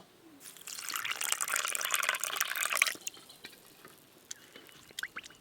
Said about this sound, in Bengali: প্রথমে সুজি জল দিয়ে ভিজিয়ে নেব